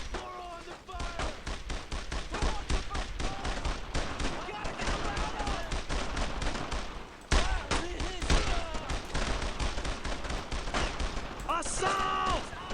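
Rapid, dense gunfire from rifles and machine guns in the World War II shooter Brothers in Arms: Road to Hill 30, loud and continuous in bursts with a few heavier bangs near the end.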